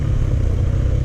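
Enduro motorcycle engine running steadily while riding a green lane on Salisbury Plain, a loud, continuous low rumble close by with no pauses.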